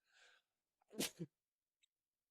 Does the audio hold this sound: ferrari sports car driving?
no